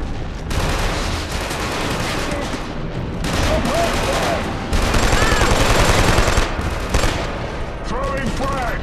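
Sustained machine gun fire during a firefight in the video game Killzone 2, a dense, loud, continuous barrage with overlapping bursts and explosions, with voices shouting underneath.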